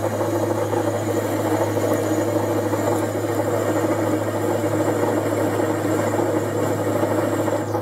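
A slitting blade cuts a widened slot in an ER20 collet holder at about 210 rpm, giving a steady, loud machine drone with a low hum that holds unchanged throughout.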